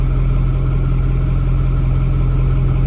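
A Ford F8000 truck with a 636ci V8 engine running at a steady, loud idle close by, its low rumble constant and unbroken throughout.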